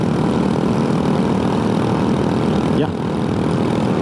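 A scooter engine laboring on an uphill drones loud and steady throughout, close by, with a brief dip near the end and a short spoken word over it.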